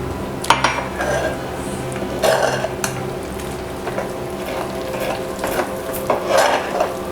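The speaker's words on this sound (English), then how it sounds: "And give it a nice stir." A spoon stirs a batter of flour, warm water and yeast for jalebi in a bowl, giving repeated scraping strokes with occasional light clinks against the sides, close and alone.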